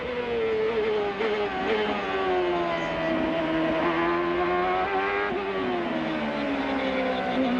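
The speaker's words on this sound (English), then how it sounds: "as they slew through the keyhole and then right up to the top of the rev range, 190 miles an hour" A 1998 CART Indy race car at Mid-Ohio screams at the top of its rev range near 190 mph, one loud continuous high-pitched engine wail with shifting pitch, sustained throughout.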